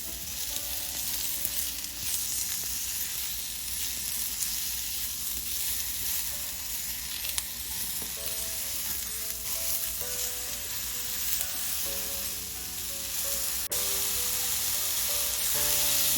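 Food sizzles steadily in a pan while a pan pizza is being made, a continuous close frying hiss under faint tonal music, with no voices.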